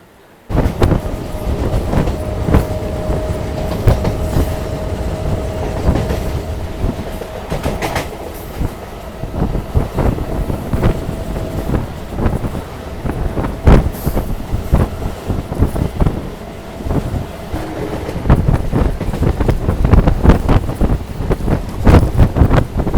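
A local train running from Barddhaman to Katwa, with continuous loud rumbling and rhythmic clickety-clack of wheels over rail joints and heavy wind buffeting the microphone throughout.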